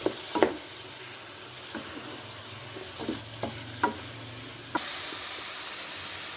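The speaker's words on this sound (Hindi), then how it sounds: "इसको मैं तेज़ चूल्हे पर भून रही हूँ" Mixed vegetables frying over a high flame give a soft continuous sizzle, punctuated by scattered stirring clinks and scrapes, with a louder burst of hiss near the end; close and without talk.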